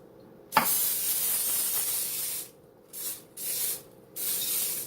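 Several bursts of aerosol cooking spray hiss into a casserole dish: one long blast, then three shorter sprays with brief pauses between them, close and fairly loud.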